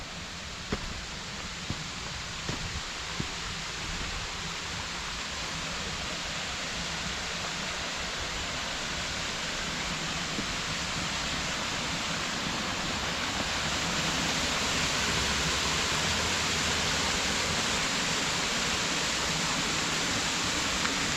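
High Falls on High Falls Creek at Ringing Rocks County Park rushes in a steady, dense roar of falling water, constant throughout and growing slightly louder toward the end.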